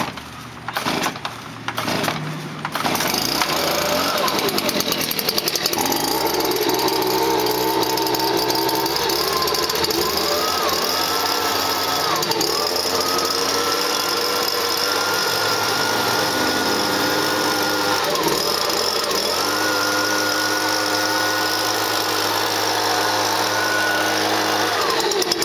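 A Stihl BG 56 C-E leaf blower gives a few short sputtering bursts as it is started, then catches and runs steadily, loud and close, for over twenty seconds with no talk.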